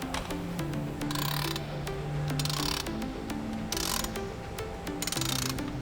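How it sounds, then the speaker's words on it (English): A shock absorber from a Polaris RZR Pro XP4 Ultimate is placed into a spring compressor, producing close metallic ratcheting clicks and clunks in irregular bursts over a mechanical hum. "We're going to place it into our spring compressor."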